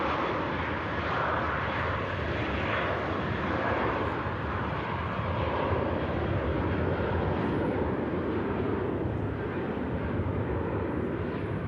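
A British Airways airliner at Manchester Airport, bound for London Heathrow, gives a steady, unbroken jet roar that holds at an even level for the whole stretch, with no voices.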